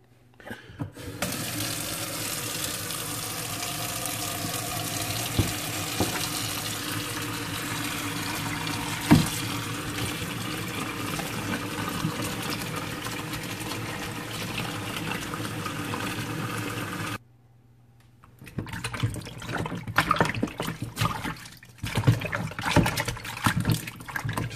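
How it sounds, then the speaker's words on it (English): A lamb shank is washed in water and lime juice under a running tap, a long steady stream of water into a sink that cuts off abruptly, then splashing and handling sounds follow. "Just washing it in some water and lime juice."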